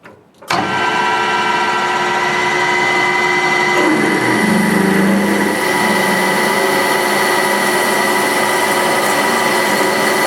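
A lathe starts up and a drill bit bores into metal, a steady loud mechanical whine with grinding tones shifting partway through, close and continuous.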